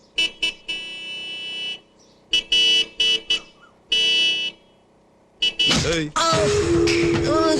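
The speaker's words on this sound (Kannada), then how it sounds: "horn repair sir" A vehicle horn sounded in a string of short and longer blasts during a repair, loud and close, followed by a burst of mixed noise with a voice at the end.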